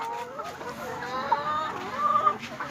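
Laying hens cluck steadily at a farm during egg collection, with several overlapping soft, warbling calls at moderate distance against quiet surroundings.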